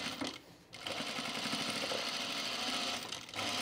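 A sewing machine runs in a steady, rapid, close-up whir while stitching the pocket of a pair of men's chino pants, pausing briefly near the start and again just before the end.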